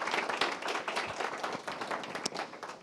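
An audience at a forum claps for a speaker and interpreter, a brisk moderately faint round of many hands clapping with uneven rhythm.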